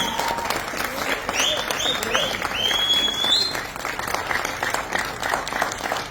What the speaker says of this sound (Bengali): একটা রূপকের জন্য প্লিজ জোরে হাততালি।